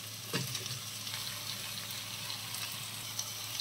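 Prawns dropped into a pan with ginger garlic paste and curry leaves, sizzling and frying steadily with a brief louder hiss near the start, close and continuous with no talking.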